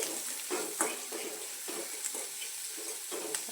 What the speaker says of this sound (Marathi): आता चांगला कांदा होऊन देऊ आपण